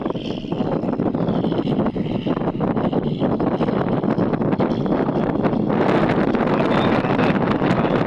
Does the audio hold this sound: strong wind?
yes